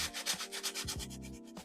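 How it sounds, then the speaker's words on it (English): Sandpaper lightly rubs over a foam sidewalk model coated in concrete paste, giving steady rhythmic scratchy strokes, close and fairly quiet, with no talk. "Just lightly sand it"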